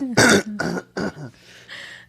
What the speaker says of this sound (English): There's going to be like some throat clears, some heavy sniffling probably.